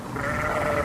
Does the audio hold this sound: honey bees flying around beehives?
no